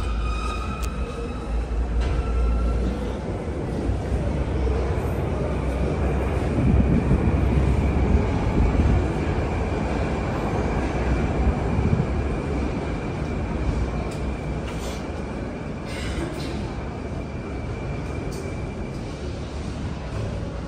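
Metro train at a Chilanzar line station in Tashkent, a sustained loud rumble and roar of carriages moving through the underground station, swelling and easing over about twenty seconds with a faint high whine.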